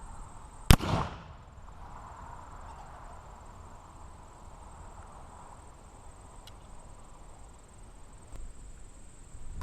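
A single homemade gunpowder charge goes off with one sharp, loud bang near the start, then a few seconds of quiet outdoor ambience with faint insect-like hiss.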